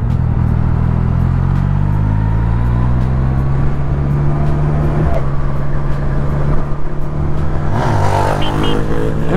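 Steady loud engine drone dominates throughout, with a truck's engine tone shifting as it passes close by, ending with a rising whoosh.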